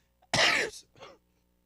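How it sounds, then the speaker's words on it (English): A close, raspy cough followed by a shorter, softer second cough, then silence. "I'm still coughing"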